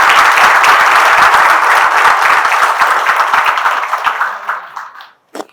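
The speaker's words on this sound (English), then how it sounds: "Please join with me by extending your background of applause today." An audience claps for the chief guest at a valediction ceremony for a GST inspectors' induction training program, brisk hall applause that gradually thins out and fades to a few last claps.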